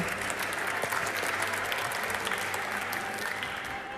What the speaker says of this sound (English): Big applause, thank you.